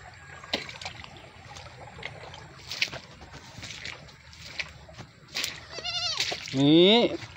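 A pair of goats bleat a few times at a tilapia farm, the last call loud and wavering, amid scattered rustling, splashes and faint background voices.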